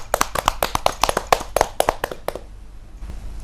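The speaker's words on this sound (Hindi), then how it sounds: "जोरदार तालियों से अभिनंदन कीजिए" A small gathering at a kavi sammelan claps to welcome poet Sudha Sharma, about a dozen sharp, loosely spaced claps for two seconds before they trail off into quiet.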